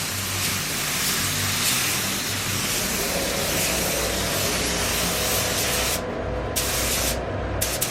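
A Sata 4000 spray gun sprays colour paint onto Mercedes SL600 parts, giving a continuous close airy hiss that pauses briefly twice near the end.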